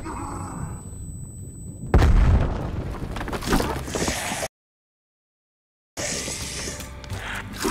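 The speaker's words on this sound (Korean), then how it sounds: "수류탄 도착!" Grenade explosion in Black Ops Cold War Zombies: a sudden loud broadband boom with rumbling debris and game effects, cutting to silence midway, then more game noise.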